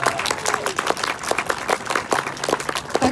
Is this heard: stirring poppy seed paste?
no